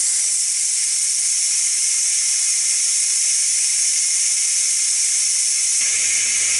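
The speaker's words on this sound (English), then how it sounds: "we're gonna come back here and hit the quick release button" A Ninja Foodi pressure cooker vents steam through its quick release, a loud, steady high hiss that runs unbroken and close for several seconds before cutting off near the end.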